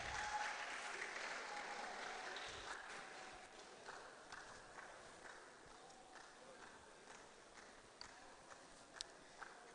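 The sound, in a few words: audience applause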